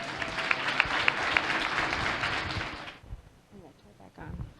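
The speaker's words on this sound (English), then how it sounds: "Please give Tori a round of applause" Audience applause at a Cleveland small business showcase, several seconds of clapping with a few crisp individual claps that cuts off abruptly, after which a voice speaks in a quiet room.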